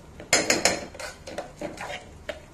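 Rice and green peas stirred in ghee in a pot for mattar pulao, with a few close metallic clanks of a spoon against the pot followed by lighter scraping and tapping, no voices.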